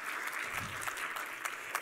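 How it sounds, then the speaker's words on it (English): An audience claps for speakers being invited onto a stage, a brisk, even patter of many hands at moderate level, with a few sharper individual claps standing out near the end. "Give them a round of applause"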